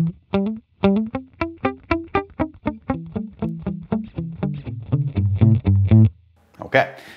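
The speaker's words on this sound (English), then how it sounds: "Now you notice this is just right now acting as a normal delay." An electric guitar runs through a Line 6 Helix delay set as a plain delay with dry signal and echo mixed about evenly: a quick run of clean plucked notes, each trailed by echoes, ending in a short noisy burst.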